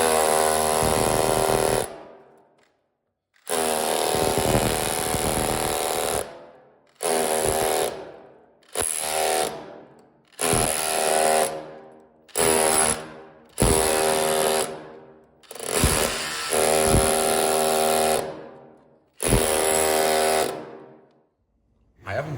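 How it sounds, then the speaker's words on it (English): A Makita DHR243 cordless SDS hammer drill hammers in loud, close bursts, roughly ten runs of a couple of seconds each with short silent gaps between them. "Just look at the video and just quickly see what the action of this hammer is actually for."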